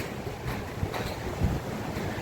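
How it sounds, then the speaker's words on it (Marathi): Spring water seeping from a hillside in the Konkan pours from a cow-mouth spout into a pond, a steady rushing splash heard up close, continuous and fairly soft, with no voices. "तलावामध्ये गायमुखातून वाहणारं शुद्ध असं गोडं पाणी"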